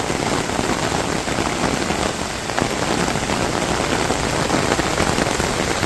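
Heavy village downpour, dense steady rain hammering on surfaces, loud and continuous with no breaks and no voices.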